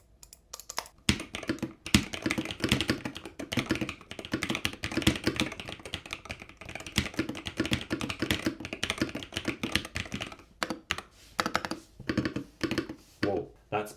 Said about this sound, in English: Let's try out this keyboard.